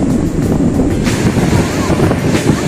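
Strong sea breeze buffets the microphone at Digha beach, a steady loud roar of wind with surf washing underneath and gusts swelling now and then.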